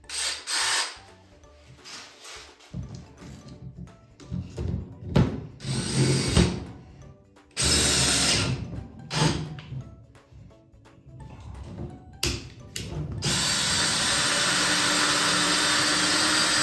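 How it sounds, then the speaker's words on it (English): An electric hand drill drills out valve guides in an old hit-and-miss engine cylinder head, running in several bursts of grinding and whirring, each stopping and starting, ending in a longer steady run up close. "I'll just use a hand drill, electric hand drill, and I'll run that through"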